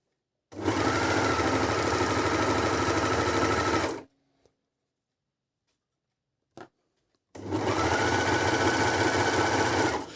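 An Elna 904DE overlock machine sews a rolled seam, whirring loud and steady in two long runs separated by a quiet pause with a couple of small clicks.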